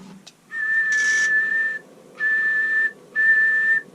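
An Icom 7300's automatic antenna tuner sounds a steady, pure tuning tone three times in succession, each lasting about a second with short gaps between, clear and alone.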